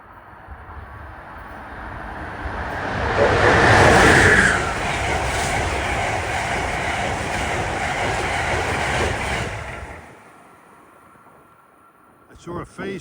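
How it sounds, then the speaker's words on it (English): Amtrak train 173, Boston to Washington, approaches and passes close by with a swelling roar, a brief horn-like tone and rattling wagons, then cuts off abruptly, followed by a few sharp clicks. "approaching at 5:04 is 173, Boston to Washington"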